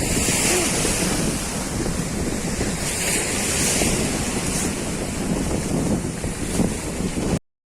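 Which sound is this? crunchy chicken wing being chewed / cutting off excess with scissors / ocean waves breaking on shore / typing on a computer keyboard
ocean waves breaking on shore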